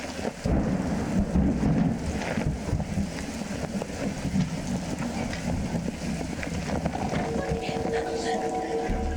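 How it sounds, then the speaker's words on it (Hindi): Steady heavy rain with low rumbling thunder throughout, close and loud, with muffled voices faintly underneath. "अरे उषा जी, आप बारिश छतरी के नीचे आ जाइए"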